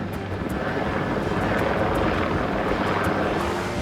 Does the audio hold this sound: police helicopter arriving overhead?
yes